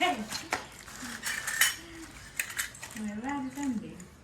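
Pieces of a toy kitchen mixer set being handled, with light plastic and metal clinks and taps scattered among a voice.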